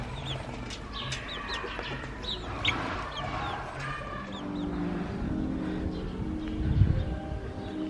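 Hens cluck and chirp softly among their chicks while pecking at greens, a steady murmur of short calls close by, with distant traffic and a low rumble underneath.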